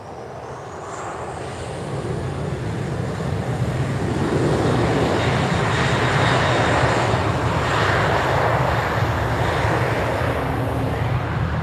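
A Ryanair airliner's jet engines roar at Lisbon Airport on a cloudy, windy evening, a steady broadband rumble that swells slightly and holds loud, heard from a distance outdoors with no talking.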